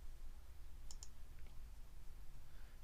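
Mouse clicks on an Add button in an Excel spreadsheet, two quick faint clicks close together, then softer ticks in a quiet room.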